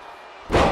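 A wrestling slam from the electric chair move in the WWE 2K23 video game lands as one loud, sudden crash with crowd roar, following a brief low rumble.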